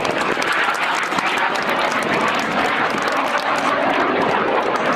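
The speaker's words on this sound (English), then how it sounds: "it's time to clap your hands for Major Federico De Cecco" An airshow crowd claps for a Frecce Tricolori solo pilot, a dense continuous wash of applause blended with a steady roar of aircraft noise, heard from within the audience at a constant level.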